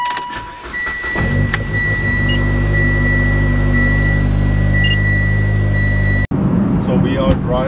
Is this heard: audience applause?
no